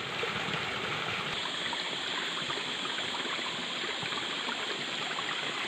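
Water runs steadily in a stream, a constant rushing and babbling with no breaks and no voices.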